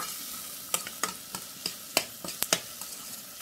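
Onions and bacon sizzle steadily in a pan for a German pork dinner, with sharp clicks and scrapes as the food is stirred; the frying is close, fairly quiet and has no talk over it.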